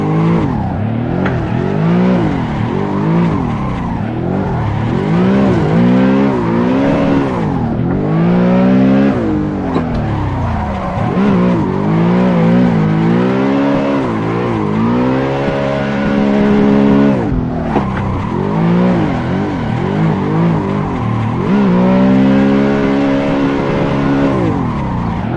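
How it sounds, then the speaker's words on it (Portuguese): A BMW M3 drifting in the Assetto Corsa racing game at the Betim kart track, loud engine revving up and down in repeated sweeps with long sustained tire squeals through slides, continuous and close, with no talking. "Ela já tem mais ângulo, ela tem potência e é um carro muito gostoso de fazer drift."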